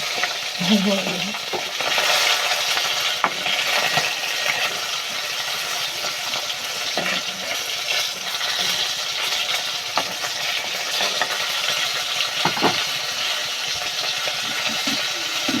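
A fish sizzles steadily as it fries in a pan, with scraping and clinking of a utensil as it is flipped, and no talk over the hiss.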